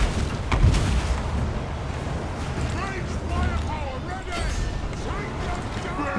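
Dwarf units fire ranged weapons in a Total War: Warhammer multiplayer battle, with a dense, rumbling wash of shots and booms amid crowd and battle noise, and someone talking over it.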